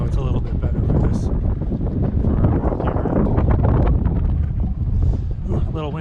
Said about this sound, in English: Ooh, a little windy there.